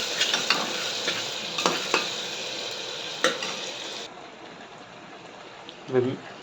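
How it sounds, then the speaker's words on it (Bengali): Marinated chicken masala frying in oil in a pressure cooker, a bright sizzle punctuated by several sharp stirring clinks that drops off partway through, leaving a quieter hiss and a short voice-like sound near the end. "ম্যারিনেট করে যে মশলাটা ছিল ওটা ওই তেলের মধ্যে দিয়ে দিয়েছি। এবার হালকা একটুখানি ভেজে নেব"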